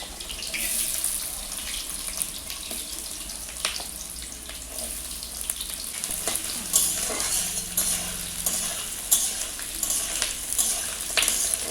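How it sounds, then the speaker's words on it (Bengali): Chopped pieces fry with cloves and cinnamon bark in oil for chicken dum biryani, a continuous moderate sizzle with occasional clinks and stirring scrapes. "একটু লাল লাল করে বাজবে, স্মেলটা তো সুন্দর আসবে।"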